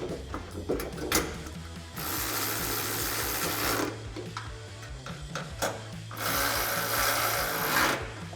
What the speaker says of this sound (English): And then we can tighten these down with a 13mm socket.